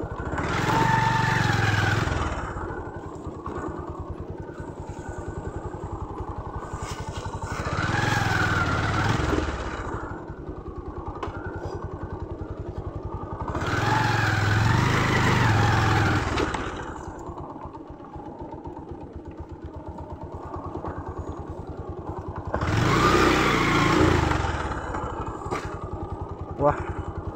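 Motorcycle ridden along a narrow jungle footpath meant for walkers, its engine rising and falling in repeated surges of revving between quieter idling stretches, close by, with voices talking throughout.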